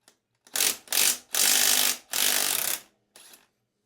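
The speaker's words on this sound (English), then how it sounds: "next we're gonna loosen this axle nut. I have a 27mm socket" A ratchet on a 27mm socket clicks in several quick bursts while loosening the front axle nut of a Kawasaki KLX 300 dual-sport motorcycle, close and loud with short pauses between strokes.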